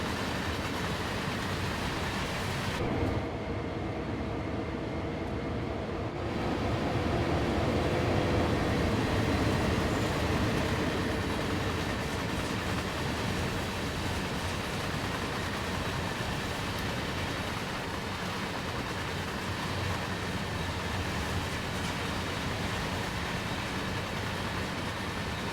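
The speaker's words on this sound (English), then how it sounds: "There goes our train." A BNSF SD40-2 diesel locomotive and its train rolling past in Train Sim World 3, a continuous broad rumble with rail clatter, swelling briefly as it draws level and then carrying on steadily.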